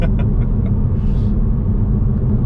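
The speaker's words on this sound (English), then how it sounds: "There is a little bit of wind noise, and a little bit of tyre roar" Steady low road rumble and tyre roar with faint wind noise inside a Nissan Juke Nismo RS cabin while driving at speed, continuous and fairly loud throughout.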